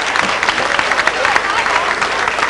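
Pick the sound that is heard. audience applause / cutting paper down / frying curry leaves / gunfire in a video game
audience applause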